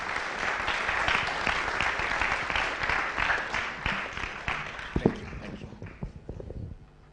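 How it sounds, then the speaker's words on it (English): Audience applause for a speaker at a tech talk and web development graduation, dense steady clapping that thins out toward the end into scattered individual claps. "Let's clap for him."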